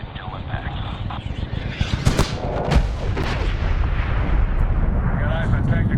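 Bomb explosions in the 2010 Medal of Honor video game, heavy booming impacts rumbling in a cluster near the middle, then a sustained roar of aftermath, with radio chatter from soldiers over the top.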